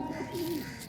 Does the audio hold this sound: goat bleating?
no